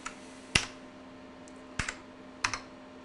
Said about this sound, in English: Let's just go and type in a name.